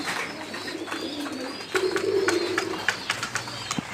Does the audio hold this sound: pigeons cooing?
yes